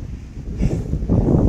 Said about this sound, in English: We got windy conditions up here.